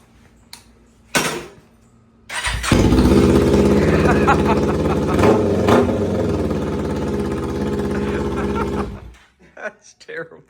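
A Kawasaki Ninja 500 motorcycle with its exhaust removed cranks over and fires up. It settles into a loud, raw, rattling idle for about six seconds and then cuts off.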